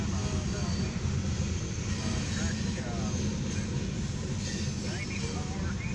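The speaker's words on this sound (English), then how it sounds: "This is an RCPE CFE mixed freight train" An eastbound FWLI CFE/RCPE mixed freight train rolls by in a steady, heavy rumble of wheels and cars, continuous and close, with a voice talking over it.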